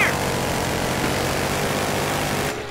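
Loud, steady whirring drone of a police helicopter flying close by in the video game Battlefield Hardline, rotor and engine noise sustained before cutting off abruptly.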